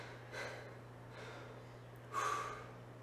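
Heavy breathing during a dumbbell upper-body workout: two audible breaths, a sharp inhale early and a louder, stronger exhale near the end, over a low steady hum with no speech.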